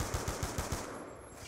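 Video game gunfire in the shooter map Hijacked, a quick burst of about five evenly spaced shots, fairly faint, followed by quiet ambient hiss.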